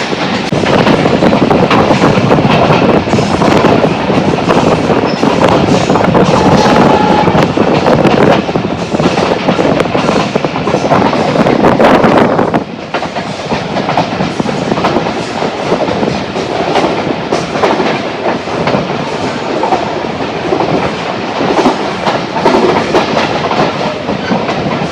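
A commuter train near Tongi on the Dhaka to Joydevpur line thunders past at high speed, loud and close with rhythmic wheel clatter, then its roar drops to a lighter rattle as it moves away.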